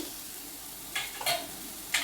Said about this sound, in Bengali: প্রায় ভাজা হয়ে এসছে